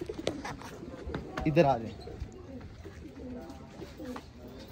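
Sialkoti pigeons coo softly with a rolling, throaty call, while someone speaks briefly nearby.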